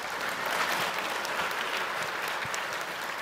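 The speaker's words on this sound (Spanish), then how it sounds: "Un aplauso, por favor" An audience at a small-business week event claps in sustained, dense applause, a loud even wash of many hands that continues for the whole stretch.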